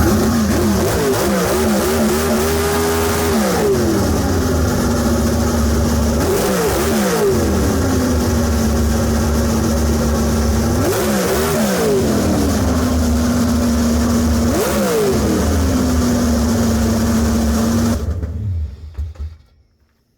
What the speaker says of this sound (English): This is what we got to do when this car gets turned on.